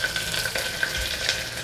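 Ingredients for bagara rice fry in a pan with a steady, close sizzle and crackle throughout, with no voices.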